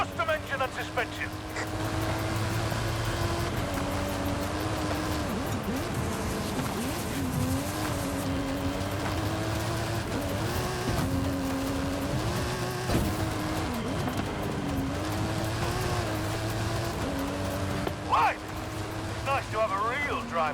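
Mike Steel Special stunt car with a custom engine and suspension in the racing game Forza Horizon 5, engine droning and revving with rising and falling pitch over about twenty seconds, with tire squeal, under voices talking.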